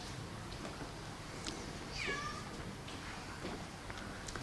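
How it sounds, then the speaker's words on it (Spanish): Cat meowing in a room during a presentation: one short, faint meow partway through, heard alone over steady background hiss with no talking. "Tenemos compañía, ¿no? Y un gatito."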